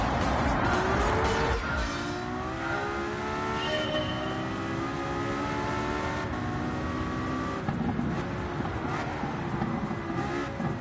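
A race car in the Gran Turismo 7 video game is driven around a track, its engine revving in long rising and falling pitch sweeps as it accelerates and brakes through corners, with a voice talking now and then.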